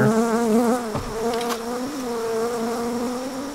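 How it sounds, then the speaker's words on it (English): A bee buzzes right up against the microphone beside a hive, a loud, close, wavering drone that dips and rises in pitch as it moves about, with no other sound around it. "we have a bee coming up and getting on the microphone and the video camera"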